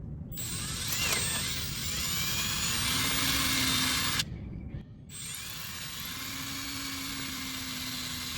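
Power drill boring holes through a fiberglass boat hull, a steady loud whine with a rising pitch that cuts off briefly midway, then resumes for a second pass.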